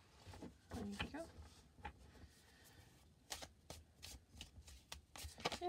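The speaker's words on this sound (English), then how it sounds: "Yeah, they shuffle fine." Dragon Age Inquisition tarot cards are shuffled by hand in a few soft, riffling bursts near the mic, with pauses of quiet between them and a voice speaking briefly at the start.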